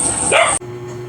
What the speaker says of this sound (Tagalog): kaya walang tigil yung mga aso ko sa pagtahol